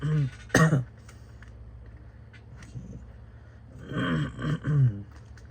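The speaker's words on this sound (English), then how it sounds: "I start coughing when I have too much air in my face" A few short coughs and throat-clearing sounds, one near the start and a cluster near the end, with quiet in between.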